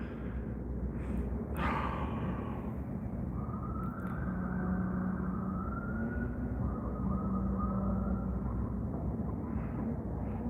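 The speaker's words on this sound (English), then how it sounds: "there's an ambulance going over there" An ambulance siren sounds on a Las Vegas street, its wailing tone rising and falling at a moderate distance over steady traffic rumble.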